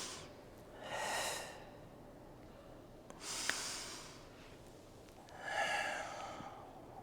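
Slow, deep breaths taken during a home mat Pilates class, three soft airy inhales and exhales spaced a couple of seconds apart, close and fairly quiet with no talking.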